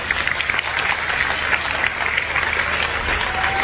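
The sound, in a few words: audience clapping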